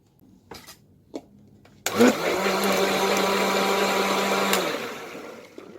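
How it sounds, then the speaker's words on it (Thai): A blender briefly coarse-chops fruit with pink salt for Scoby jam, starting with a few short knocks, then running as a loud, steady whirring motor for about three seconds before winding down. "เราจะไม่ปั่นจนละเอียดนะคะ เราจะปั่นแค่พอหยาบนะ"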